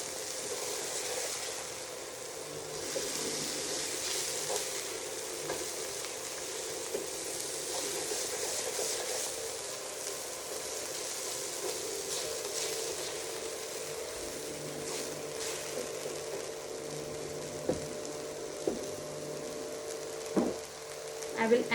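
Cooked quinoa with capsicum is stirred in a pan over a soft, steady sizzle, with light scraping and a few clinks of the utensil toward the end, close and alone.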